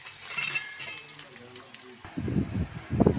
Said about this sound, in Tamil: எல்லாத்தையும் தாளித்து எடுத்துக்கணுங்க.